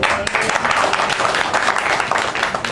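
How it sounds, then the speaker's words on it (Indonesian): Audience applause at a Kenduri Cinta community gathering in June 2012, a dense, steady wash of many hands clapping at once that holds at an even level for the whole stretch without a break. "tepuk tangan dulu buat kalian."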